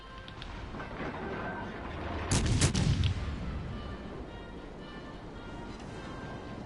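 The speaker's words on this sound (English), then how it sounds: "Is that the gearing shooting me as well?" Naval gunfire from a Gearing destroyer in a ship combat video game, a heavy distant boom and crash that swells briefly over a rumbling battle background.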